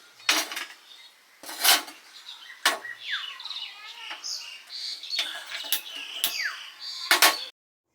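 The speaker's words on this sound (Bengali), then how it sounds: "প্রেশার কুকারটা বসে দিচ্ছি" A pressure cooker is set down on a stove in a home kitchen while chicken curry is being made, giving several sharp metallic clanks spaced a second or so apart, with birds chirping faintly in the background.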